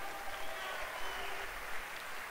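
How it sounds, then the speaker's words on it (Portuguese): A church congregation claps during an evening worship service, a faint, distant patter of applause with a soft, roomy wash beneath it and no speech over the top. "Aplaude o Senhor nessa noite."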